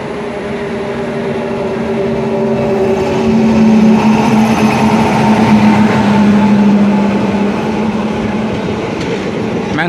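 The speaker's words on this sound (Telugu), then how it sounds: "సిఎస్ఎంటి మంగళూరు ఎక్స్ప్రెస్." CSMT Mangaluru Express passing close by at a crossing, a loud rising rumble of wheels and carriages with a sustained horn-like tone and faint squeal, swelling in the middle then easing.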